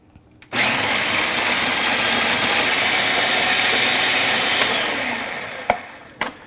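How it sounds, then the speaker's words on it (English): Blender pureeing a pumpkin seed and arbol chili crema, starting abruptly with a loud, steady whirring roar for about five seconds, then winding down into a few knocks. "And we're just going to blend this up."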